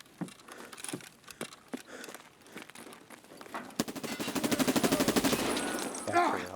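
Video game gunfire at an outpost: scattered shots early on, then a long rapid automatic burst with a steady, even rhythm, fairly close, with voices talking over it.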